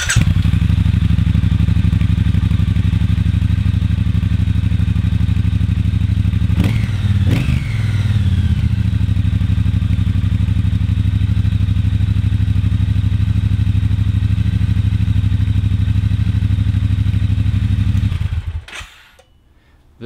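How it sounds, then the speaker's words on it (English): The engine of a Triumph Bobber Black motorcycle with its stock exhaust idles loud and steady from about a meter away, with a brief clattering blip of revs partway through, then cuts off abruptly near the end. "Let's start the engine."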